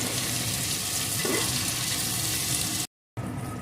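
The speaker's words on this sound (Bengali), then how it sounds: "এখন এগুলোকেও একটু ভালো করে ভেজে নেব যতক্ষণ না পেঁয়াজ রসুনের কাঁচা গন্ধটা দূর হয়ে যায়" Onion, garlic and slit green chillies frying in oil inside a pressure cooker, a steady loud sizzling hiss throughout that cuts out briefly near the end before resuming.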